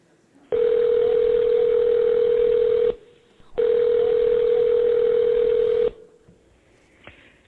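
A telephone call rings out with two long, loud, steady ringback tones separated by a short gap, followed by near silence with a faint click.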